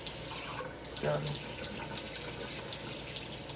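Tap water pours steadily into a container set on a kitchen scale while 113 grams is measured for sourdough bread. It is a continuous close hiss of running water, with brief speech at the start.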